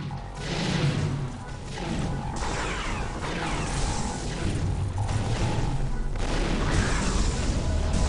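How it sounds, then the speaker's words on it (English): Cluster bombs go off in the online game SWG Legends, a dense, continuous run of booms and crashes that stays loud throughout. "we'll pop the cluster bombs as often as we can."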